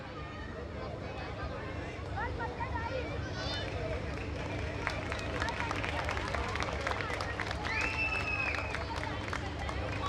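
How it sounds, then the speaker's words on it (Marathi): Loud applause from the audience at a prize distribution ceremony, dense continuous clapping filling the room, with crowd chatter mixed underneath. "जोरदार टाळ्या."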